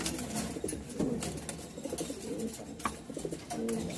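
Pigeons in a loft, including a Damascene breeding pair, coo repeatedly in soft low murmurs with overlapping calls and faint rustling close by, with no talking.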